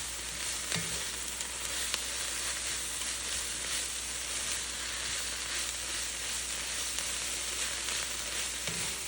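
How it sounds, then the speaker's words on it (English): Collard greens sizzle steadily in a hot pan while being sauteed for Hoppin' John, a constant close frying hiss with a few brief clinks of a utensil, no voices. "I'm gonna start to saute that so that it begins to wilt down."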